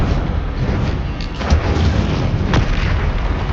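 Fire spell cast in the video game Hogwarts Legacy: a dense, loud, rumbling burst of magical flame with crackling roar throughout and a couple of sharper thuds, steady and continuous.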